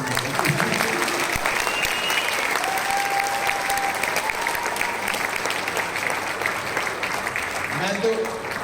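A book launch audience applauds, dense and continuous clapping from a large crowd that stays loud and even throughout, with voices audible beneath it.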